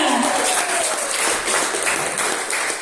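Steady audience applause fills an awards segment at the season-closing concert in the village of Buzovyazy, dense and even from start to finish, with a little talk mixed in.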